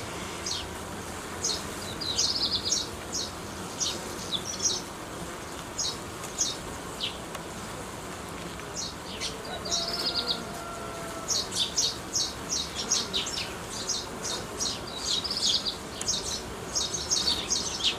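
Honeybees hum in a low, continuous drone at a hive while a nucleus colony is being strengthened, with frequent small bird chirps scattered above it outdoors.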